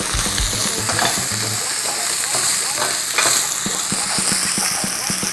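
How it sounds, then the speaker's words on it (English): Vegetables fry in a hot pan for a roast chicken dish, with a steady loud sizzle and repeated scraping, clattering stirs against the pan bottom throughout. "अभी हम इसे अच्छी तरह भूनेंगे."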